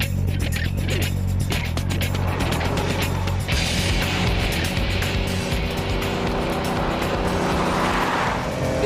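A Bugatti EB110 engine drones loud and steady while being driven hard, with a brief dip around a gear change and then continued roaring acceleration. No voices are heard.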